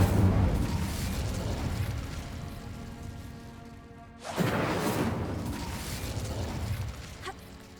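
Incendio fire spell cast in Hogwarts Legacy: a loud, sudden fiery whoosh bursts out about halfway through and settles into a roaring, crackling rush, over steady game ambience.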